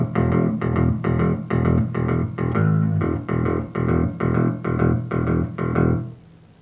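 Picked with a plectrum, an electric bass drives a steady boogie rhythm of evenly spaced, hard-attacked repeated notes, about a dozen in a row before it stops, loud and close with no speech.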